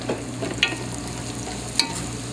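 Vegetables for clam chowder browning in a skillet, a close, even sizzle with two quick scraping clinks of a utensil against the pan, no talking.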